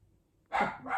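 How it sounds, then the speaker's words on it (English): A dog barks sharply a couple of times nearby, loud and sudden after a moment of near silence. "Oh, sorry if you can hear the dog barking."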